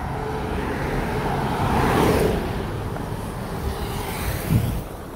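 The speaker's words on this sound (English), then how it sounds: "that car just whizzed right by" A car speeds past on a busy road near a store, swelling loud over wind and traffic noise and then fading as it passes.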